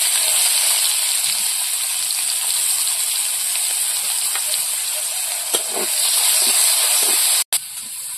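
Onions fry in hot oil with bay leaf and whole spices, giving a steady, close hiss and sizzle with faint crackles throughout and one brief dropout near the end.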